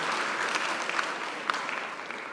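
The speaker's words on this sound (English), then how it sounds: "do you mind giving them a round of applause as well?" Steady applause from a congregation at a school church service, dense, continuous clapping from many hands throughout, with no voices on top.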